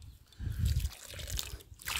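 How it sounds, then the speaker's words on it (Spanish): Water is poured from a container onto the loose soil of a potted cyclamen, a faint, brief trickle and splash heard close up and on its own. "Le podéis mojar, le podéis echar agua"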